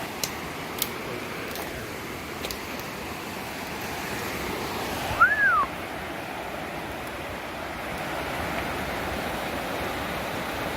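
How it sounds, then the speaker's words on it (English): A big rocky river in the wilderness rushes with a steady, even roar of flowing water, and a single brief high chirp rises above it midway. "Big rocky river."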